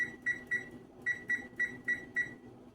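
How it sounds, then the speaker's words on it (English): A kitchen timer set for 14 minutes beeps in quick pairs of short, high electronic tones, repeating several times at a steady rhythm, fairly quiet and close. "Now I'm going to set the timer for 14 minutes."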